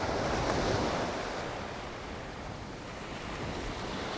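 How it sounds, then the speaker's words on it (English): Ocean waves crash steadily on a black sand beach in Madeira, a continuous broadband roar of surf with wind, loud and unbroken throughout. "Move the focus again to the foreground, because that's where the waves are crashing."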